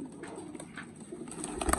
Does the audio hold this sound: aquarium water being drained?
no